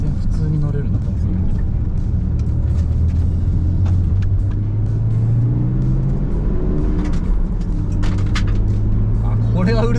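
A Mitsubishi GTO twin-turbo engine and exhaust heard from inside while driving, a loud rumbling drone that climbs in pitch under acceleration, drops, then climbs again, with people talking over it throughout.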